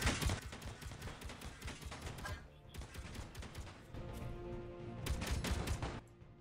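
Rapid bursts of gunfire from a base in Space Engineers, dense and loud, with overlapping shots and clattering impacts that run nearly continuously, thin briefly midway, then surge again before stopping near the end.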